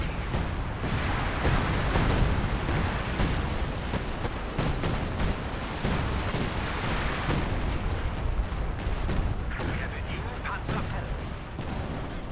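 Assault artillery from the video game Company of Heroes 2 pounds continuously, a dense rumble of booms and blasts under steady voice-over commentary.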